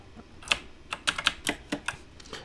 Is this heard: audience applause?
no